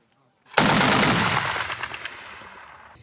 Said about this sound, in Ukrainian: знищили умовного противника, стріляючи з великокаліберного кулемета, встановленого на БТРі